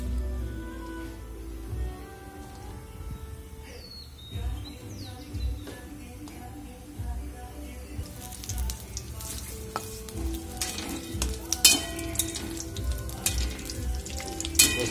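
Chopped onions dropped into a spoonful of hot oil in a pan for egg bhurji, giving a steady close sizzle and crackle that grows busier and louder partway through, with occasional stirring scrapes.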